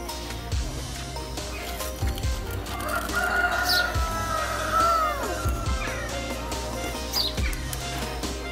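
Chickens and roosters at an animal rescue, with nearby clucking and two or three crows rising over a steady farmyard background of bird calls.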